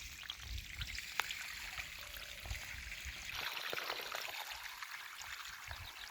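Water streams steadily through a PVC channel drain at a paved driveway, giving a faint, continuous trickling and gurgling flow with no voices.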